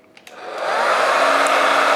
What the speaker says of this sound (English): now I'm going to put the hairdryer on again